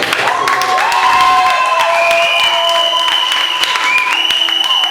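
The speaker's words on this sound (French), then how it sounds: "On peut l'applaudir, hein, voilà, très bien." A crowd applauds at a Miss N'zassa Treichville 2023 beauty pageant preselection, scattered claps running over loud, steady music.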